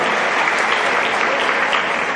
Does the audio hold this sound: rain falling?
no